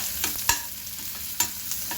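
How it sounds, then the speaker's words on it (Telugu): Hot oil sizzling softly as tempering spices fry, with a couple of sharp crackling pops and light spoon clinks, close and brief. "ఒక పక్కన తాలింపు పెట్టేస్తున్నా."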